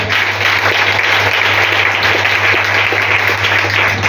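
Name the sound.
congregation applauding in church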